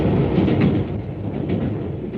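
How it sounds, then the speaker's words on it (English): A 1950s British diesel multiple unit train runs past, a rumbling, muffled roll of engine and wheels, steady and fairly close, without any talking. "diesel multiple unit trains have been selected."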